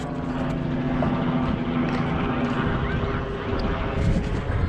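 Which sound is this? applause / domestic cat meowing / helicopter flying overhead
helicopter flying overhead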